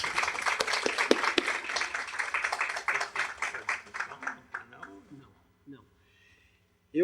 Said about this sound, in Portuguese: E para quem eu peço uma salva de palmas